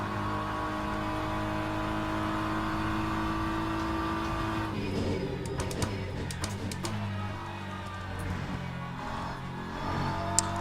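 Engines of LMP prototype race cars in the Le Mans Ultimate racing game roar steadily near, then several sharp passing bursts and revs sweep by as the faster cars come through.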